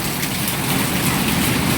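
Steady rain pattering down, a dense, continuous hiss of drops on a surface, fairly close and unbroken throughout.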